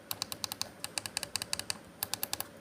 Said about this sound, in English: The D-pad is nice, it's really clicky.